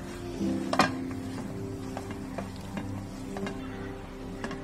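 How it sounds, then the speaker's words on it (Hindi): A spoon stirring a sticky mixture of dates and dry fruit in a pan, with a light sizzle under soft scraping and an occasional clink against the metal, close and quiet, with no talk. "गैस की फ्लेम अब मैं ऑफ कर दूंगी और इन्हें अच्छी तरह से मिक्स कर लूंगी"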